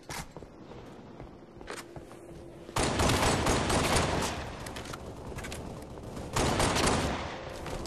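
Gunfire in Halo Reach, with scattered single shots followed by two loud bursts of sustained rapid automatic fire, close and dense, with no talking over it.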